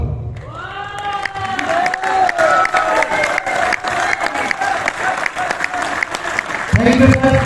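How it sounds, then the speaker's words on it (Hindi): An audience claps loudly and steadily in sustained applause at a live stage event, with cheering and shouting layered over it and music running underneath. "एक बार जोरदार ताली हो जाए"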